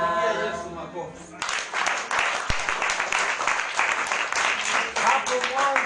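A church congregation claps together during a worship service, a brief sung or spoken voice leading into dense, rhythmic group clapping that carries on loudly with voices mixed in.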